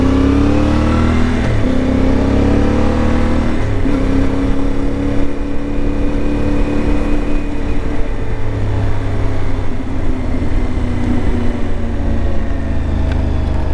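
A CFMoto IBEX 450 motorcycle engine pulls hard on a road commute, its loud, close exhaust note climbing through several revving surges and gear changes, with steady wind rush underneath and no talking.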